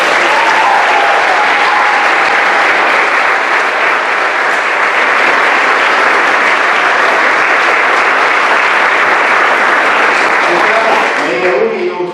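Sustained audience applause fills a Christmas concert hall, dense and even from start to finish, easing slightly at the very end.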